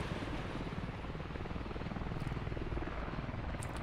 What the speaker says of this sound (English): We have live as the helicopter spools up.